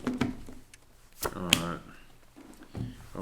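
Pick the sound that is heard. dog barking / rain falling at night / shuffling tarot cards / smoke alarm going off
shuffling tarot cards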